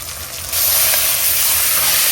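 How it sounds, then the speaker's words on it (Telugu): Ginger garlic paste hits softened onions in a hot pan for a mutton and bottle gourd curry, a loud sizzling hiss that jumps up sharply after a moment and holds steady. "అల్లం వెల్లుల్లి పేస్ట్ వేసుకుందాం"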